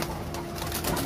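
A pigeon on a farm in Fujairah gives a brief low coo, close and mixed with outdoor background noise.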